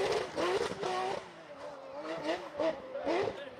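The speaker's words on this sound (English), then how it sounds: "Bro, this Porsche sound insane." A Porsche rally car races past at a rally stage, its engine loud and surging in repeated bursts of revving with some tire noise, while spectators' voices mix in throughout.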